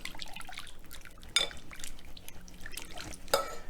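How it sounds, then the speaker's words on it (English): Salad dressing for a shrimp panzanella is whisked in a bowl, a soft wet churning broken by a couple of sharper clinks of the whisk against the side, quiet and close. "Let me just whisk it a little bit more"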